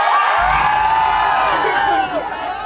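A live stage comedy audience in India shouts loudly on cue, a dense roaring crowd cheer with whoops rising together and holding for a couple of seconds before easing slightly.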